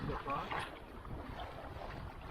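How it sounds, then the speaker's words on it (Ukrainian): Gusty wind buffets the microphone outdoors while fishing, with a low rumbling roar that is strongest at the start and then steadies. "Чекайте, вітер фігарить."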